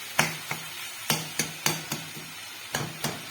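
A ladle chops and breaks up shark puttu frying in a pan, giving sharp metallic taps in an irregular rhythm, about a dozen close knocks over a faint sizzle.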